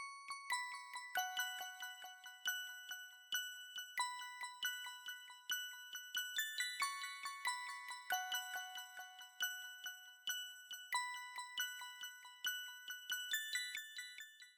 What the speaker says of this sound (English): Finally, I got this bell from Xenology, and again, it's a counter melody